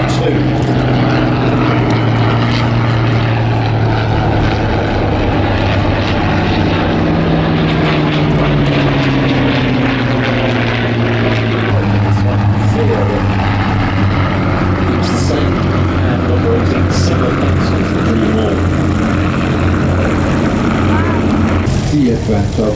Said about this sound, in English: We have the Hawker Nimrod 1 and the Hawker Nimrod 2.